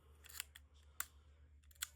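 Argus C3 rangefinder camera shutter set to bulb mode, three or four sharp mechanical clicks in quick succession, close and crisp over a quiet low hum.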